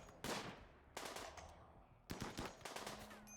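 Bursts of gunfire from the colony-survival video game Rimworld crack out in three separate volleys, sharp and rapid, with fading tails between them and no talk over them.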